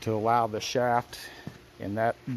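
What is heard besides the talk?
No everyday noise stands out behind the speech.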